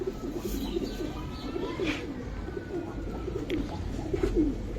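Pigeons cooing in soft, repeated low murmurs, several birds close by at a pigeon market, with a steady rustling background and occasional faint chirps.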